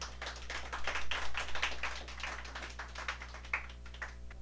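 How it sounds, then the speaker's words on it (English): An audience applauds with steady, dense clapping that goes on without a break, over a low electrical hum. "Let's give a big round of applause"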